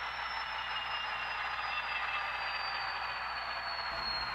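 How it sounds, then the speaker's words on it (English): A steady, loud engine roar with a high whine running through it, constant and unbroken throughout: the EMD 710 prime mover sound of a model F59PH locomotive. "listen to that fantastic EMD 710 prime mover."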